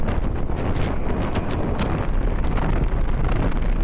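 Heavy wind buffeting the microphone while riding an Eahora Tiger Max electric scooter into a headwind, with loud, continuous roaring rumble and gusty flutter and no speech.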